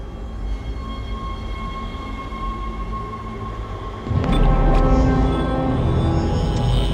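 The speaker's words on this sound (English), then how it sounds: "let's board the tram" A tram rumbles steadily through the Dead Space game world, a low, continuous rolling drone that swells louder and fuller partway through as it picks up, with no talking.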